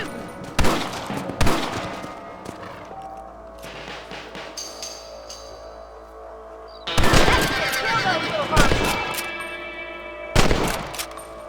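Rifle shots ring out while hunting rabbits in the Red Dead Redemption video game, several sharp loud cracks spread across the scene, some in quick clusters, with in-game sounds and a voice speaking between them.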